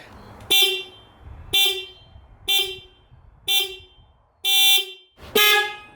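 Upgraded aftermarket horn on a Kawasaki Ninja 400 motorcycle, sounded in six sharp loud honks with a short pause between each, the fifth held slightly longer, close up over faint background noise.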